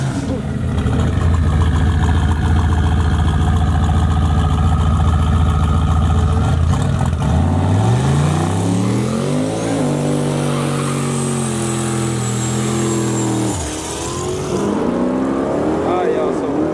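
A rusty turbocharged Pontiac Parisienne with a huge bullhorn exhaust roars loudly, climbing through rising revs with a brief lift before pulling again, while voices talk over it.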